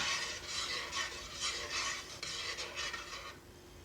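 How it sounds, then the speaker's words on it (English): A spoon stirring food in a pot before tasting, a soft rhythmic swishing scrape that repeats in even strokes, close and fairly quiet, with no voices. "And then I stir it up and see how it tastes."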